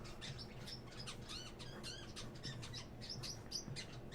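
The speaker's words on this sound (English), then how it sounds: "these birds are loud today" Several birds chirp and tweet outdoors in a busy, overlapping chorus of quick repeated calls over a steady background hiss, fairly close and continuous.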